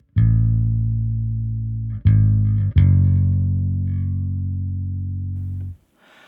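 Bass guitar plays a sustained low line, three notes in sequence with the middle passing note (the 7) briefly before landing on a long held root, clean and loud with no talking.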